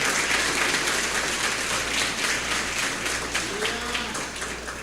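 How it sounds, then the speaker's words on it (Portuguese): A church congregation applauds during a service: dense, steady clapping fills the whole stretch at an even level, easing slightly toward the end. "se eu fosse você, aplaudia Jesus"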